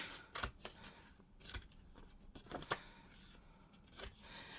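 Scissors cut paper mats down to size for a junk journal: a few quiet, close snips with short pauses between, no talking.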